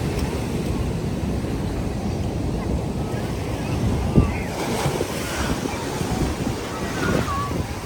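Sea waves break at Chavakkad beach with a steady, close roar of surf, while wind buffets the microphone throughout.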